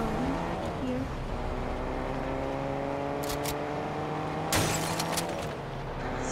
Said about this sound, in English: Oh, there's another car, there's another car.